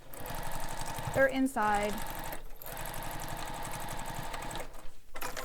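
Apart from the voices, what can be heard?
sewing machine stitching a messenger bag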